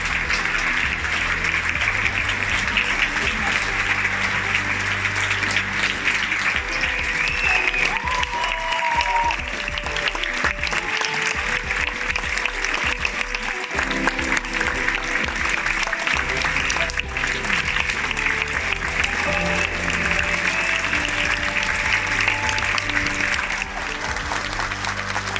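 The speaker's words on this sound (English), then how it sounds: "fair to say, he got a thunderous applause" Thunderous, sustained applause from a packed theatre audience at the Cannes film festival, a loud unbroken roar of clapping throughout, with faint voices and some tonal sounds underneath.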